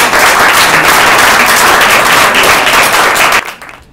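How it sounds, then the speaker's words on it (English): Loud, dense audience applause fills the room at a community event, many hands clapping in a steady roar that carries on unbroken, then drops off sharply near the end. "So let's give them a round of applause."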